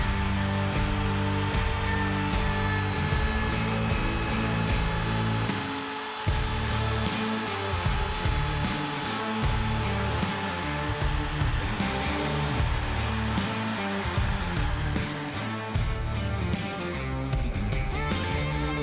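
A wood router makes a climb cut along the edge of a wooden apple box, its motor whining steadily and close throughout while the tone shifts slightly under load, with no speech.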